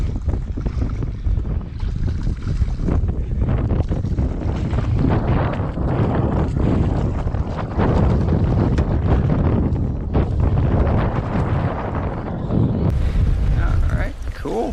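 Steady wind roars over open water during a cold-front winter windstorm while bass fishing from a boat, a loud, continuous buffeting rush across the microphone throughout.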